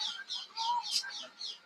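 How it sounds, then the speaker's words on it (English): Birds calling indoors from outside, a quick series of faint, high chirps repeating in a steady rhythm over a brief moment. "now you can hear the birds"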